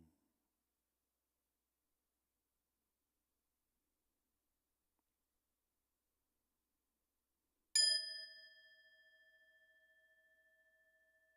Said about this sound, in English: I hit the gong, please mentally say Hong.